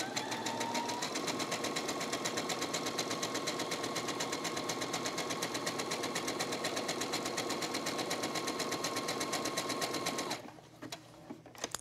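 Sewing machine running zigzag stitches along the edge of a fabric-scrap gift tag, a fast even mechanical whir that holds steady for about ten seconds before stopping abruptly, leaving a few quiet handling noises.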